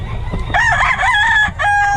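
A rooster crows loudly and close by, one long drawn-out call with a wavering pitch, among gamecocks brought for sale, with low background murmur beneath it.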